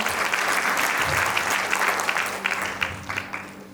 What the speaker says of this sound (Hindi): इनके लिए भी मैं एक बार जोरदार ताली चाहता हूं